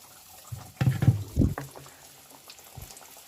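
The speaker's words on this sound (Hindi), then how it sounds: "बस अब हम इनको भी फ्राई कर लेंगे" Moong dal mathri, a crisp Indian tea-time snack, going into hot oil for deep frying, with a few loud bubbling bursts early on before the oil settles to a quiet low simmer; no one speaks.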